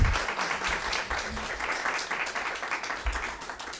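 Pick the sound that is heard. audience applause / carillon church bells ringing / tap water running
audience applause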